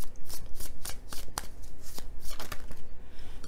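Tarot cards being shuffled by hand in a quick, steady riffling rhythm of soft papery flutters and taps, close and fairly loud, with no voices.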